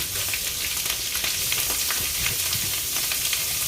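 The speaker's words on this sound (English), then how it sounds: "Yeah, it's gonna sizzle, and I need to turn it down" Potatoes sizzle as they fry in a pan seasoned with garlic powder, rosemary and thyme, a steady dense crackle with scattered pops throughout and no voices.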